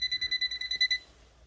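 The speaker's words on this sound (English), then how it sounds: "as it got closer, the beeping got quicker" A handheld circuit breaker finder beeping in rapid, evenly spaced electronic tones, about a dozen quick pulses close to the device, which stop abruptly partway through and leave a quiet room.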